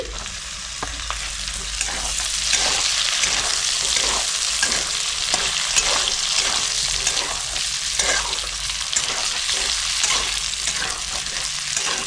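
Chopped garlic and ginger fry in a pot for chicken soup while a utensil stirs them with steady, repeated scraping strokes over a continuous close sizzle, no voices.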